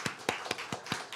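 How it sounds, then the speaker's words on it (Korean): Applause in a church service is heard as five sharp, evenly spaced claps in about a second, close and crisp, with no voices. "영광의 박수 한번 올려드리길 원합니다"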